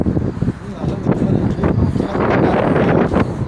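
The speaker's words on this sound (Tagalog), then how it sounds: "lakas ng hangin" Strong wind buffets the microphone in loud gusty rumbles during a mountain bike ride while voices talk underneath.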